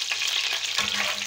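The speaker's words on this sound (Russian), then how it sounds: "И мы жарим печеночку" Lamb liver sizzles loudly and continuously in a well-heated frying pan over medium heat, a close, dense crackling hiss with faint stirring.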